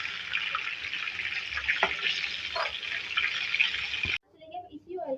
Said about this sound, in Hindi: देखिए जी, फ्राई हो रहा है, थोड़ा सा और फ्राई करेंगे और थोड़ा कलर चेंज होगा इसका।